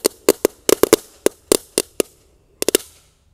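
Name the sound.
two 'rooster crowing' firecrackers set off inside a hole in the ground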